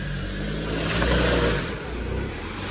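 A Mahindra Thar's engine revs steadily and loudly while the SUV sits bogged in a deep swamp mud pit, the rumble swelling briefly in the middle and easing off toward the end.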